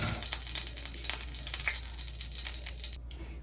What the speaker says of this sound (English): So guys, I'm gonna saute my carrot and my onion.